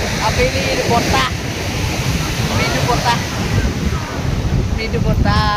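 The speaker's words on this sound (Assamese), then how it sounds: "মৃদু বতাহ সাগৰৰ পাৰৰ মৃদু বতাহ" Steady evening sea breeze at Chennai beach, a constant loud rush of wind buffeting the microphone with surf washing underneath, while people's voices chatter faintly in the background.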